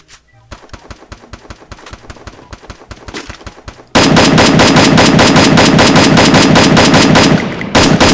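Rapid automatic gunfire in the mobile shooter Free Fire, starting as quieter, distant-sounding bursts and then becoming loud, close, sustained machine-gun fire for several seconds before cutting off near the end.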